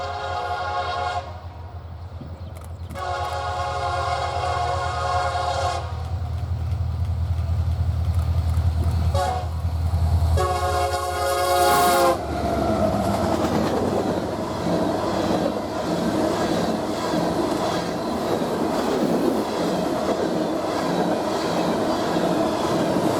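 A ballast train rolls through the North Platte rail yard in Nebraska, a loud continuous rumble and rattle of wagons with tonal horn-like bands early on, building into dense steady clatter for the rest of the pass.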